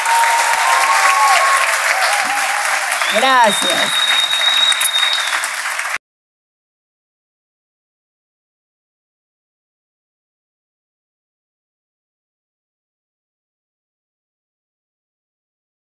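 Sustained crowd applause for a performer at a Guayaquil show, loud and dense for about six seconds with a short spoken word over it, then cut off abruptly to silence.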